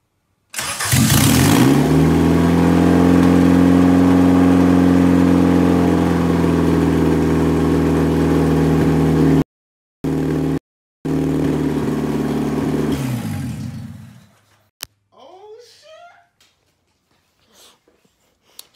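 A Honda Civic project car running an OBD0 Integra ECU fires up for its first start: a loud engine catches and idles steadily for about twelve seconds, briefly cuts out, then shuts down, followed by faint clicks and handling noises.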